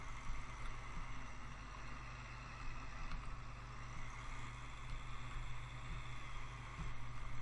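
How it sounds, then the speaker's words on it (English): Liaz ST180 articulated tractor, about 185 horsepower, driving in Farming Simulator 2013, giving a steady, droning engine rumble with a constant low hum throughout and no voices. "The Liaz ST180. She's a good, powerful tractor."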